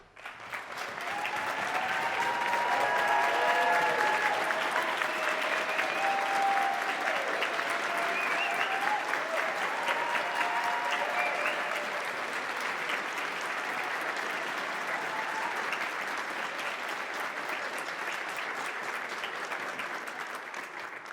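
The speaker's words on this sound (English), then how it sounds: "If anyone is deserving of an ovation, they are." Sustained audience applause as a standing ovation for the Houston Pride Bands at a Pride Bands Alliance conference, a dense steady wash of many hands clapping from a large crowd, holding strong for about twenty seconds with faint cheers inside.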